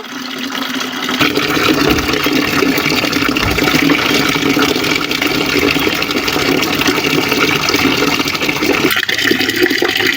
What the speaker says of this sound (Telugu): చక్కగా మనం వాటర్ నింపుకొని వేసేసుకోవచ్చు అనమాట